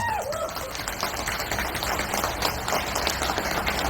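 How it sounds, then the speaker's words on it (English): A gathering at an NPP party meeting claps for Dr. DRL Nonglait, its candidate for the 2026 MP by-election, in a continuous patter of many hands at moderate volume. "Let's give a round of applause"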